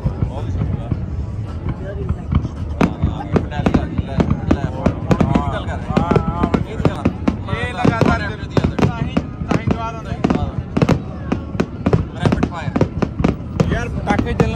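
Fireworks burst in rapid, irregular volleys of sharp bangs and crackles throughout a Chicago boat tour, loud and dense, with people talking over them.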